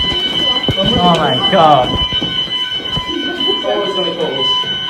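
A school fire alarm blares continuously as a steady electronic tone, loud and close, while people talk and exclaim over it.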